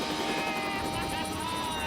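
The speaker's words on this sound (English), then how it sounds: "helicopters in position and ready for the test" Helicopters hover in position before a test, a loud continuous rotor drone with rapid pulsing blade chop that holds steady throughout.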